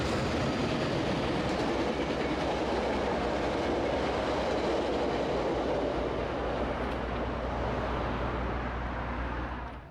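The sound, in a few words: Metrolink train passing BNSF Intermodal yard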